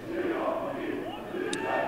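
Siófok fans cheer at a handball match, their crowd chant a loud, sustained roar that swells and dips over two seconds without pause.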